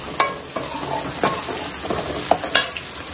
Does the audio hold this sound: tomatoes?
yes